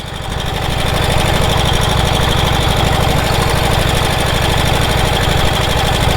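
A 108-year-old Harley-Davidson motorcycle engine runs steadily and loudly up close, a fast pulsing thump with rattly mechanical knocking throughout, ridden at the National Motor Museum.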